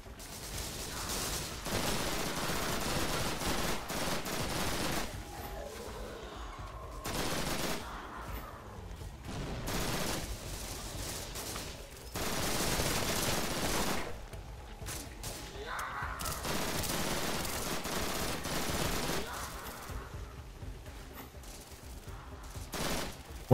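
Sustained video game gunfire aimed at zombies, with long stretches of rapid automatic shooting broken by brief pauses, steady and fairly loud throughout.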